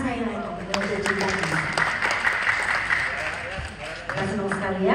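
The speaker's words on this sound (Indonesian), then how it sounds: "Tepuk tangan sekali lagi." Audience applause at a concert, a sustained patter of many hands under someone talking and music, steady throughout with a short dip near the end.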